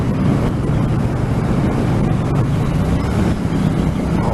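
A Triumph Street Cup 900 motorcycle on standard exhausts, its engine droning loud and continuous while riding, heavily mixed with rushing wind buffeting the microphone, with no talk.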